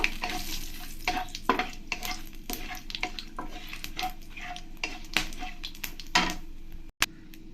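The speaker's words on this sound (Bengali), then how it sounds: "এবার আমি এই তেলের মধ্যে এক চামচ জিরে দিয়ে দেব আর দিয়ে দেবো এখানে কিছু গোটা মশলা তেজপাতা শুকনো লঙ্কা নিয়েছি" Cumin seeds, bay leaf and dried red chillies crackle and sizzle in hot oil, with frequent sharp spoon scrapes and clicks against the pan as they are stirred, close and fairly loud.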